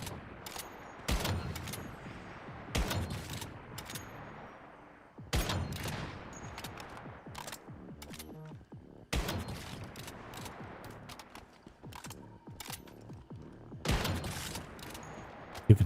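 Sniper gunfire in the video game Once Human, sharp heavy shots in irregular bursts separated by quieter gaps, some shots rolling into a short echo, with no talk.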